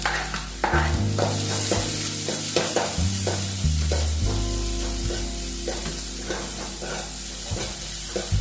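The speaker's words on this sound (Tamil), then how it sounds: "வெங்காயம் ஸ்லோ ஃப்ளேம்ல வச்சு நல்லா வதக்கவும்" Onions and garlic sizzle steadily in hot oil over a low flame for paneer bhurji while a utensil stirs and scrapes the pan in repeated strokes, with a low hum underneath.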